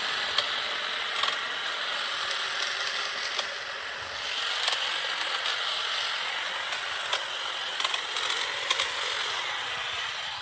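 An electric hedge trimmer, part of a cordless 4-in-1 trimmer and pole saw kit, runs steadily as it cuts through a bush, a continuous high whine with brief snaps and crackles of branches, close and alone without talk.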